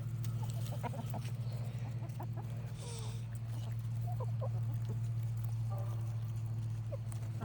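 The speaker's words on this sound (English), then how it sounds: "You're a bunch of spoiled little chickens." Chickens cluck and chirp in short bursts over a constant low mechanical hum, with scattered scratching and shuffling noises.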